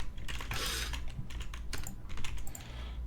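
Rapid clicking of keys on a computer keyboard, a steady close-up patter of irregular keystrokes with no talking.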